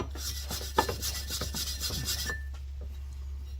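Metal is rubbed clean of welding residue before painting on a winch and roof-mount fabrication job, making a steady scratchy rasping for about two and a half seconds with a faint squeak, then fading to quiet hum.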